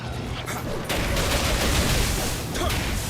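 Dense, continuous gunfire from a gun in the video game Nioh, a rapid crackling barrage filling the whole stretch, with faint talk underneath.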